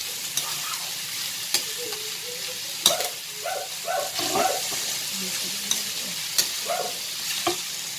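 Shredded chicken is stirred in a hot pan for chicken pastel, with a continuous sizzle under repeated scraping and clinking strokes of the utensil, close and moderately loud.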